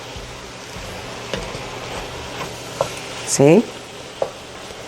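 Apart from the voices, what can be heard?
freshly diced tomatoes sizzling in chili pot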